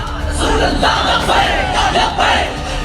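A large crowd gathered to hear Saad Rizvi roars and chants in unison, loud swelling waves of massed voices rising and falling in a steady rhythm, close and continuous.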